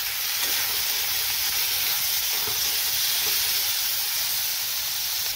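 Two chopped tomatoes added to hot oil with ginger and garlic in a pan, sizzling and hissing steadily and loudly without pause, with faint stirring noises.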